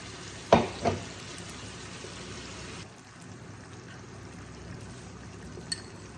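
Spice paste tipped into a hot pot of oil for a mutton curry, a loud splashing hiss at first that settles into a low, steady frying sizzle, close by with no talk.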